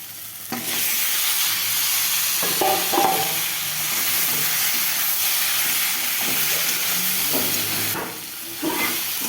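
Vegetables fry with spices in a pan, a loud, dense hiss and sizzle throughout, broken by stirring scrapes and a brief dip near the end.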